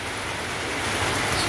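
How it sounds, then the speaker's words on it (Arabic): Steady rain pours down in a continuous, even hiss, moderately close, with no voices over it. "شتا زوينه."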